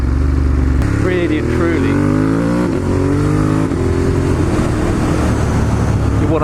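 A Ducati Monster 1200S engine revs up toward 4,000 RPM from a loud close idle, its pitch rising and falling several times before settling into a steady rumble while someone talks over it.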